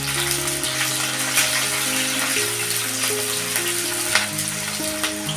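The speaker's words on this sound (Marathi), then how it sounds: "जिरं आणि मोहरी टाकले मी अर्धा अर्धा चमचा आणि आम्हाला हा कढीपत्ता टाकते" Cumin, mustard seeds and curry leaves fry in hot oil in a pan, a dense continuous crackling sizzle close up with faint tonal sounds running underneath.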